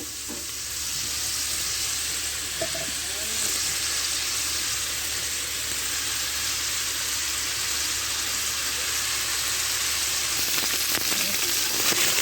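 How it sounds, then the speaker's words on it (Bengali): Tangra fish frying gently in oil, giving a steady, close crackling sizzle that runs unbroken and evenly loud with no voices. "ট্যাংরা মাছগুলো আমি নরমভাবে ভেজে নেব, শক্ত করব না"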